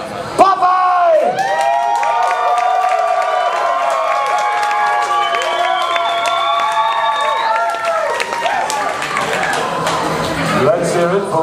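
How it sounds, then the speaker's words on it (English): A variety show audience cheers, whoops and applauds for a contestant, loud and sustained with many high excited voices shouting over steady clapping. "Huge round of applause for number one"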